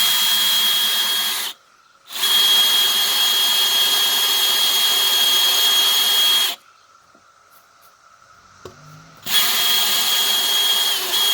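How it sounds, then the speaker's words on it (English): Power drill boring into a wooden table top, a loud steady whine running in two long bursts broken by a short pause, then a quieter low hum and a final burst of drilling. "So I'm gonna go with my drill on the inside of my cut line."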